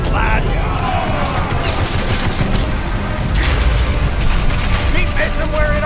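Cannons fire in a pirate ship battle in the Battlewake VR game. Dense, loud booms and crackling blasts roll on without a break, mixed with voices throughout.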